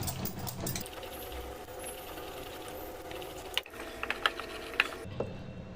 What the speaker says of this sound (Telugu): పప్పు గుత్తితోటి ఒకసారి మనము రుబ్బుకుందాము మెత్తగా అయ్యేదాకా.